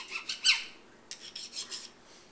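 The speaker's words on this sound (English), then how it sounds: "You want to use a file. And first you want to clean all those burrs off." Metal file rasping burrs off a freshly cut metal edge for a shop-built compass, a few quick strokes at the start followed by lighter, softer passes, close and fairly quiet with no talk.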